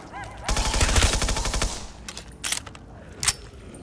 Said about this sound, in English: This is the PDW, like the PDW from BO